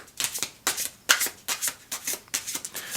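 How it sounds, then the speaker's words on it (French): A Deviant Moon tarot deck being shuffled up close, with about eight quick papery riffling bursts in a steady rhythm over a few seconds and no voices. "nous sommes ici avec le tarot Deviant Moon de Patrick Valenza"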